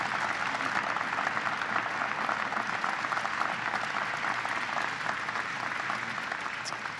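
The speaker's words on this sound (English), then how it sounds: "Would you please give them another round of applause for making this" Sustained applause from a large audience at the first National Space Council meeting at the Smithsonian, steady dense clapping that fills the whole stretch at an even, loud level without pause.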